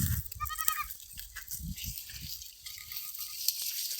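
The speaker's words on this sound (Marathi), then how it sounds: "हे बघा आमच्या बकरीचे पिल्लू" A young goat gives two short, high-pitched bleats, the first quavering and the second thinner, against a quiet outdoor hiss.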